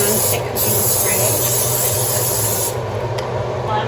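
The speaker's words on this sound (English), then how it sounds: "I'm going to spray my slow cooker with non-stick cooking spray" Non-stick cooking spray is sprayed into a slow cooker in a home kitchen: a loud, close, steady aerosol hiss running for several seconds with only brief breaks.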